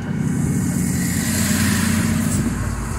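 The engine of a DAF LF 250 truck brakes after a downshift, a loud, steady low drone heard from inside the cab, its tone shifting slightly near the end.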